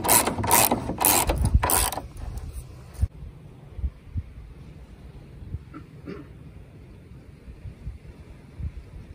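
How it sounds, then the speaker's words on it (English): A ratchet wrench cranks rapidly in a few quick loud bursts while tightening bolts on campervan solar panel mounts, then gives way to quiet handling and faint clicks. "We just got to tighten and bolt everything down"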